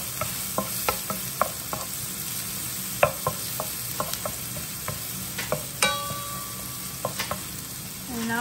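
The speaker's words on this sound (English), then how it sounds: "And cook it a little bit until the onion is thicker." Chopped onion frying in a pan, stirred with repeated scraping clicks of a utensil over a steady low sizzle, fairly close, with no talking.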